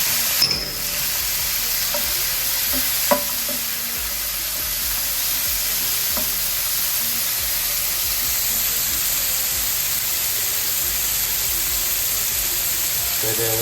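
Onions and tomatoes sizzling in a hot pan for Sri Lankan sambal, a steady loud frying hiss throughout with a few sharp clinks of a stirring spoon near the start.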